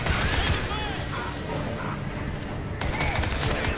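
Gunfire from the video game Crysis 3, a dense run of rapid shots at steady loudness through the clip, with a sharp burst near the end and no talking over it.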